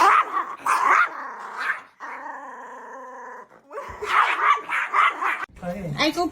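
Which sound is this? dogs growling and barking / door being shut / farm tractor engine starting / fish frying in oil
dogs growling and barking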